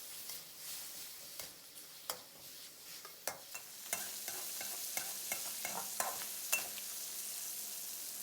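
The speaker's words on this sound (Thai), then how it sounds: "เดี๋ยวเราเจียวเอาน้ำมันไก่กันเลยครับ" Chicken skin frying in hot oil to render chicken fat, a soft steady sizzle broken by scattered pops and crackles, fairly quiet and close, with no voices.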